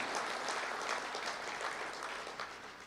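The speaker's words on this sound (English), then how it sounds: "you can applaud yourself for the wonderful result." Audience applause at an education sector gathering addressed by a national president, a steady broadband wash of clapping that holds for about three seconds and tapers slightly at the end, with no talk over it.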